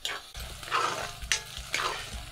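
Ingredients frying and being stirred in a pan over a low flame for an Assamese Sunday special dish, a soft steady sizzle with a few brief scraping stir strokes, close and moderately quiet.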